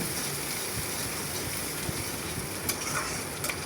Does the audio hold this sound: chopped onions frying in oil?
yes